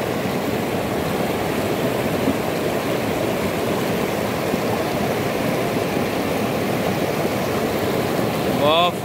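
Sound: rushing water of the Chheuti river

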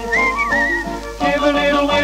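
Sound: whistling in Pinocchio song

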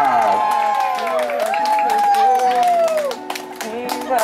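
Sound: crowd applause and clapping

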